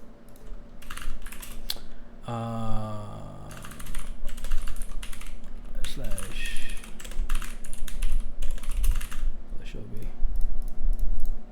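Computer keyboard typing in rapid, irregular bursts of clicks spread across the stretch, fairly close, with a few brief tonal sounds and some background noise between the keystrokes.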